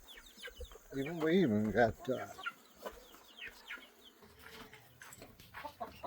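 Barnyard chickens cluck near goats, ducks and quail, with a loud drawn-out call early on and scattered clucks after, while someone talks briefly.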